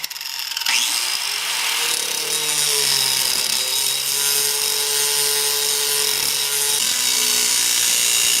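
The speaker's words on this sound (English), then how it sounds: "I found this piece of pipe, and I'll just put it in the vise and cut a piece off." A piece of pipe clamped in a vise is cut with a loud, continuous grinding and whining tool sound that shifts in pitch as the cut progresses, close up and without talking.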